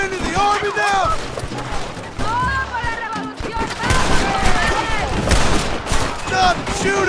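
Gunfire in Red Dead Redemption at Las Puertas de el Presidio, with repeated shots and rapid bursts crackling under shouted voices and game dialogue throughout.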